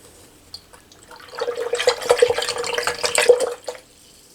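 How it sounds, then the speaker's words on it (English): Water poured and swirled with food coloring in a container for a density experiment, a soft splashing, trickling run of about two seconds, close and moderately loud, with no talking. "mix in our food coloring with our water"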